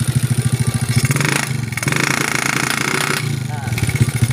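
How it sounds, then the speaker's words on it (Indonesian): A motorcycle engine with carburetor trouble runs roughly near at hand, its uneven pulsing idle throbbing loudly and surging briefly, while someone talks over it. "Motor masih tetap kayak gini guys."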